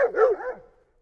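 A dog gives a single soft, short woof that trails off quickly, close and alone in a quiet room.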